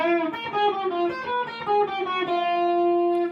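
A song's intro riff on electric guitar, played as a sustained, slightly overdriven run of repeated notes that bend and shift in pitch, steady and moderately loud, with no voices.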